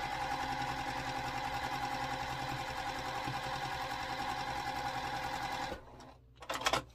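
A sewing machine runs steadily, stitching down a quilt block for an all-seasons block-of-the-month quilt, with a dense even whir lasting several seconds before it stops; a few brief taps and clicks follow near the end.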